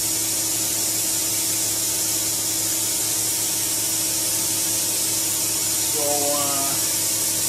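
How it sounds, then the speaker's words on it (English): A suction hose runs with a strong, steady, loud rushing hiss that never lets up, and a brief wavering tone and a short spoken word appear near the end. "there really is a tremendous amount of suction on the end of this hose here"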